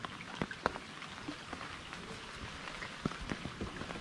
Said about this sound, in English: So see the mangroves here, it's raining